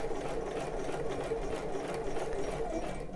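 Sewing machine stitching a bra, running at a steady fast pace with an even mechanical whir and rapid needle chatter, continuous and close throughout.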